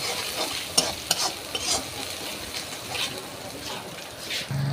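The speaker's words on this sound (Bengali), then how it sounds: "তো এবার আমরা এটাকে হালকা করে কষে নেব।" Dry chili powder, cumin and coriander powder are stirred and fried in a pan, giving a soft sizzle under scraping strokes of the spoon, close and moderately loud.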